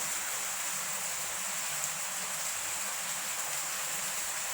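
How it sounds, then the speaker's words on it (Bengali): Heavy rain pours down in a steady, dense hiss without pause, filling the scene evenly at a moderate level with no other sounds standing out. "দেখেন অনেক বৃষ্টি"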